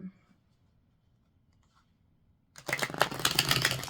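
Several decks of playing cards riffled together in a dense, close burst of rapid flutter that starts abruptly after a few seconds of near silence and keeps going loud to the end.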